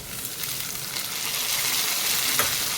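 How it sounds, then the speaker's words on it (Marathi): Chopped tomatoes with ginger-garlic paste sautéing in a pan for chole masala, a loud continuous hiss and sizzle with stirring, building slightly and steady to the end. "याच सोबत यामध्ये मी ॲड करते आलं लसूण पेस्ट आणि छान परतवून घ्यायचं टोमॅटोला।"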